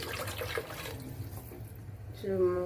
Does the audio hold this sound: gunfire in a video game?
no